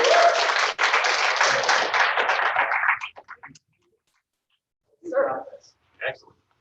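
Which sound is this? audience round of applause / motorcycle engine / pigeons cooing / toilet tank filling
audience round of applause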